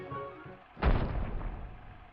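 A cannon fires in the Kingdom Hearts 2 video game, one deep booming blast partway through that rolls into a lingering rumble over a low background hum.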